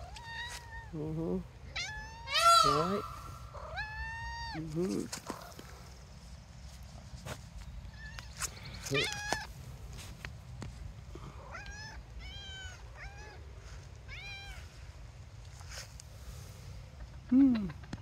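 A cat meows repeatedly in short rising and falling cries, close by, with a few brief spoken words and soft footsteps in the background.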